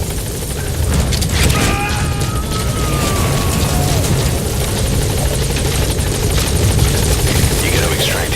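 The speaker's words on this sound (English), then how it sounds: "Support helicopter has arrived." A support helicopter arrives in Metal Gear Solid 5, its rotor thudding loud and steady throughout while voices talk over it.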